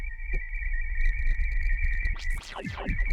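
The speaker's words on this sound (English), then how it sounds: "you get an interesting cricket noise" A Mask1 synthesizer patch with aftertouch on the filter, producing a steady high cricket-like chirping tone over low rumbling, with sweeping pitch glides near the end.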